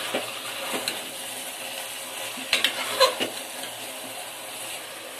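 Stirring salt and turmeric into a fish curry, with soft scraping and a few sharp taps of a spoon against the pot, close by and fairly quiet, without talk.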